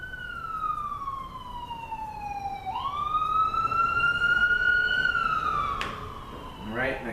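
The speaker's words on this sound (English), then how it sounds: "Sounds like emergency vehicles are coming." A wailing emergency vehicle siren passes on a road, rising and falling in pitch over steady traffic noise, fairly loud and sustained, with a brief sharp burst near the end.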